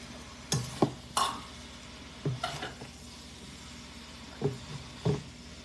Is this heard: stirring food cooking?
yes